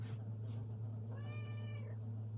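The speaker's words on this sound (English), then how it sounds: "This is Midnight, our outdoor cat." Midnight, an outdoor cat, gives a single drawn-out meow over a steady low hum, close by and clear.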